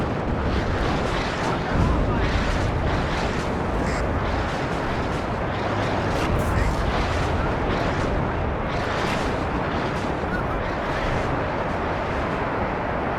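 Dense, continuous rumble of a rocket artillery barrage in the WARNO wargame, a sustained roar of overlapping explosions and launches at steady loudness with no clear gaps.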